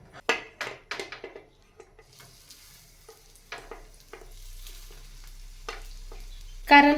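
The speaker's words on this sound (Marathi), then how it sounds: "आता मी काय करणार आहे, या वड्या थोड्याशा तेलावर भाजून घेणार आहे." Kothimbir vadi pieces shallow-fry in a little oil with a faint, quiet sizzle. A few sharp clinks and scrapes of a utensil against the pan come early on, then it settles into a low background hiss.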